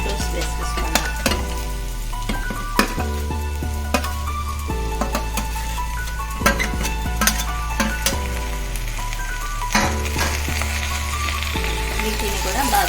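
Potato curry with tomatoes and turmeric being stirred in a pan, a steady frying sizzle running throughout with a spoon scraping at intervals, close and fairly loud, no talk.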